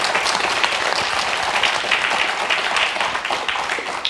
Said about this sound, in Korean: 우렁찬 박수 부탁드립니다.